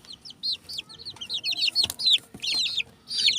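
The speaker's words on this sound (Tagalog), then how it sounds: "Yakult para sa alagang sisiw." Young chicks being given Yakult peep in rapid, high-pitched bursts, repeated continuously and close by, with faint handling noises underneath.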